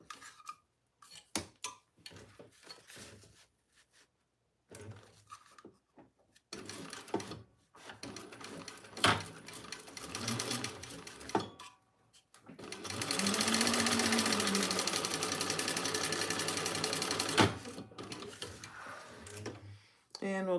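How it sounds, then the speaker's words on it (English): A domestic sewing machine stitches across the top of a small fabric bag with a slip pocket, whirring in short bursts and then one long steady run, with someone talking between the runs. "And now I'll just stitch across the top."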